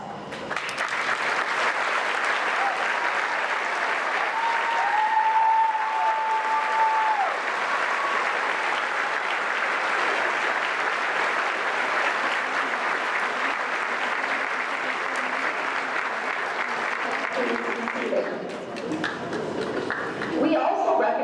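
Sustained applause from a large graduation crowd at a high school ceremony, honoring students on the honor roll; steady dense clapping fills the hall for about eighteen seconds, with a brief tone near the start, then fading into murmurs.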